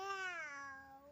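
A voice imitates a cat's meow, one clear, close, drawn-out call with a falling pitch.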